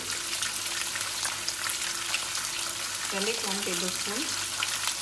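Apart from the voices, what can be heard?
onion, garlic and ginger sautéing in a pan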